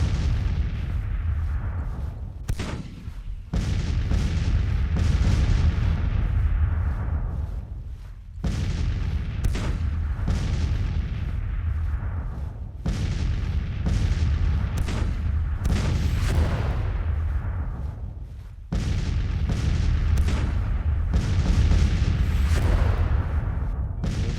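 Artillery fire in the strategy game Grand Tactician, set in the 1863 Civil War: repeated heavy booms and rumbling volleys in several loud bursts, each trailing off before the next, with no talk.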